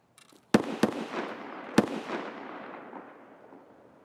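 Three sharp gunshots ring out in an Escape From Tarkov match, two in quick succession then a third a second later, each trailing a long echoing decay that fades into quiet.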